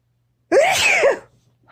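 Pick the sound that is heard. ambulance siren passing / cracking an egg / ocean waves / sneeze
sneeze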